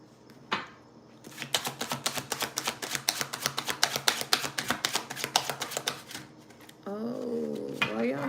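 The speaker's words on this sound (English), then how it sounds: "Oh, why y'all shuffling like this?" A deck of tarot cards is shuffled in a rapid run of crisp, evenly spaced riffling snaps that go on for several seconds, followed by a person speaking.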